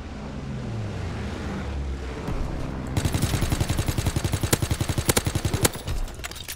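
Rapid automatic gunfire in a shooter video game, a dense run of sharp repeated shots at close range following a low rumbling lead-in, loud and continuous without talk.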